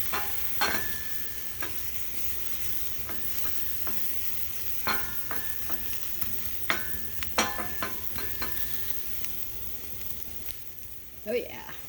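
Peppers roast in a pan at fairly low volume with a soft continuous crackle, broken by repeated clicks and scrapes of a spoon stirring, and faint talk in the background.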